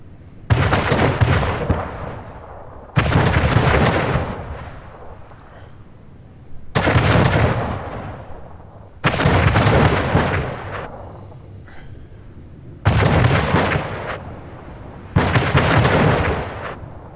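Naval cannon fire from a ship battle in the strategy game Anno 1800. Six heavy booms land roughly every two to three seconds, each with a long rumbling decay, loud and close.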